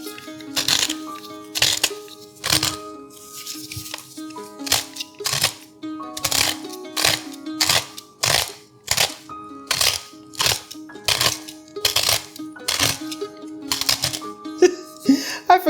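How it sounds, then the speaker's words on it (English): Fresh cracked black pepper ground in a repeated series of short crunchy grinder clicks and twists, close and fairly loud, falling in irregular bursts over a faint musical background. "I'm gonna put some fresh cracked black pepper."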